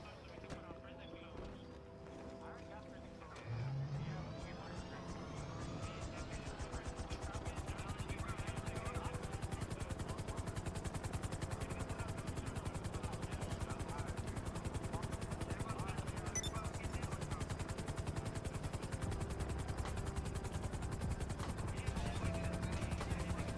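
A steady helicopter rotor drone in Grand Theft Auto V starts a few seconds in and holds loud and continuous, its thumping blades filling the background.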